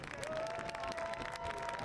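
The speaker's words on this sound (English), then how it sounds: "Balagoon getting a warm round of applause." Warm crowd applause at a Lexington SC versus Forward Madison FC soccer match as a substituted player leaves the field, steady dense clapping from the stands, moderately distant, with no talk over it.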